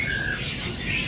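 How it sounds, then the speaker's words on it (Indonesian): A male parrotfinch-type songbird in a bird shop kiosk, starting up with thin, high squawky chirps and short whistled notes, close by over a busy background hum. "Burung udah mulai ngerewek."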